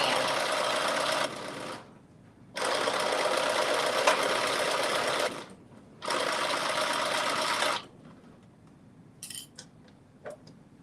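Sewing machine stitching a stretched band onto the sleeve of a drop-shoulder long-sleeve top, running in three steady bursts separated by short pauses, then a few faint clicks and handling sounds, close and alone.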